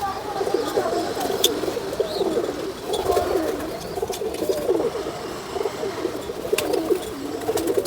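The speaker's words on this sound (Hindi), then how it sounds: "परों से भरे हुए बिल्कुल कबूतर हैं" Several pigeons coo continuously in overlapping low throaty warbles, close and fairly loud, with faint chirps now and then and no clear talk.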